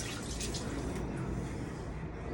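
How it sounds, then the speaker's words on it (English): Hands being washed under a running kitchen tap, giving a steady close splashing hiss of water throughout with no pauses. "and wash my hands again"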